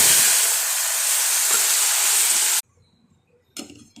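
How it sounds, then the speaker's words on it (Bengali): Lentil dal hitting a hot pan of garlic and chilli tempering, a loud steady sizzle for a few seconds that stops abruptly, followed by a brief clink and a short burst of hiss. "এই ডালটা বেড়ে ঢেলে দিচ্ছি"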